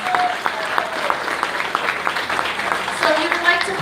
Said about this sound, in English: let's give Jody a round of applause.